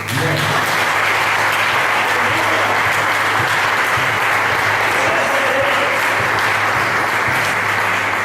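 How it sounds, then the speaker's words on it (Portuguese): Congregation applauding in a church during a pastor's sermon, a dense, steady wash of clapping that stays loud and continuous throughout, with a low hum underneath. "Vamos aplaudir ele por isso"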